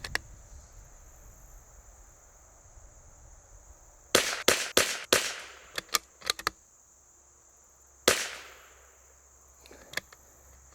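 An L3I Stinger .22LR rifle fires outdoors in a quick string of sharp, snappy reports, then a few scattered single shots, with a steady high insect buzz in the background.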